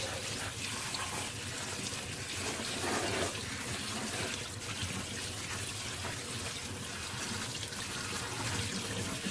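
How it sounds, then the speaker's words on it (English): Chopped leeks rinsed under a running kitchen tap, a steady continuous splash of water that stays fairly even throughout, with no talking. "So now we're just going to rinse them off a little bit."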